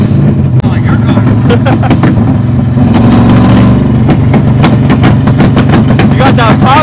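An LS-swapped Nissan 300ZX with a pop tune roars loudly from inside the car, its engine droning and revving while sharp exhaust pops and crackles burst in quick succession, with people talking over it.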